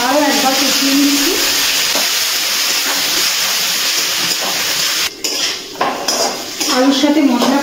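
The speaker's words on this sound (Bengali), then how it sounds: "আলুর সাথে মশলাটা ভালো করে আরও একবার কষিয়ে নিচ্ছি।" Fried potatoes with masala and a splash of water sautéed in a pan for mochar dhoka, a loud steady sizzle and hiss with a spatula scraping and clattering against the metal, close up.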